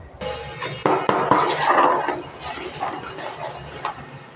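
A ladle scrapes and clinks against a metal pot while thick wheat khichdi with homemade pickle masala is stirred, giving a run of close, uneven scraping and knocking strokes with no talking.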